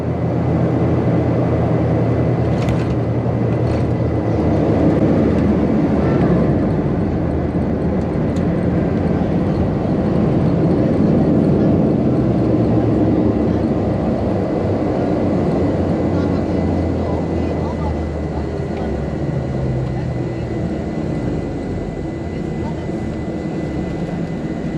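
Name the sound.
Embraer EMB-120 Brasilia propeller aircraft engine in flight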